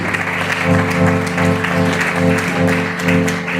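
A church congregation applauds and acclaims God with dense, sustained clapping and loud voices, a strong droning tone running underneath throughout.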